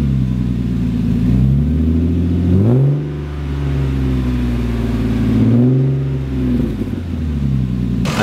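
A 2002 Lexus IS300 engine with a throttle cable needing adjustment revs up twice with rising and falling pitch, then settles back toward idle. The sound is loud and close, with no talk.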